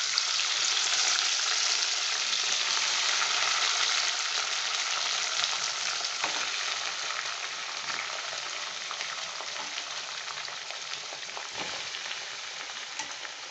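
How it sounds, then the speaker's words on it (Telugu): Chopped amaranth leaves fry in hot oil, giving a bright, steady sizzle that crackles close up and slowly eases in loudness, with occasional stirring knocks and no voices. "ఈ కాగుతున్నటువంటి నూనెలో నేను ఈ తోటకూరను వేస్తున్నాను."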